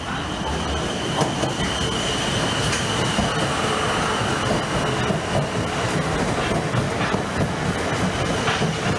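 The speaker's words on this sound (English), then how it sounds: "Now approaching platform 2 is the 1726 Southwestern Railway service to Alton" A South Western Railway train to Alton rumbles steadily into a station platform, a constant roar of wheels and engine with faint metallic squeals and clicks over it.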